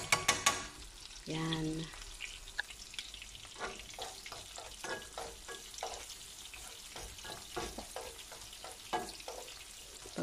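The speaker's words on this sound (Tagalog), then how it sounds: "gigisa natin yung bawang tsaka sibuyas. May konting oil lang yan. Olive oil." Garlic sautéing in a little olive oil, a quiet crackling sizzle with scattered stirring clicks and scrapes, briefly under a short spoken word.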